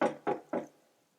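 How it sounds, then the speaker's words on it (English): Soft knocking on a door, three evenly spaced muffled raps close by, each fading quickly, with nothing else heard. "There was a soft knocking."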